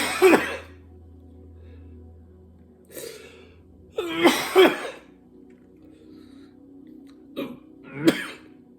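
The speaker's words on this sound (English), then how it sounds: "Capsaicin cough." Several separate coughs and throat-clearing bursts, close and fairly loud, spaced out with quiet pauses between them.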